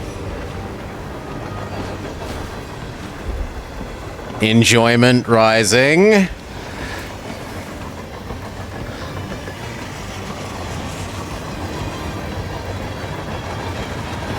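A train rolls along its rails in a video game, a steady rumble running the whole way through, with a short stretch of talk laid over it near the middle.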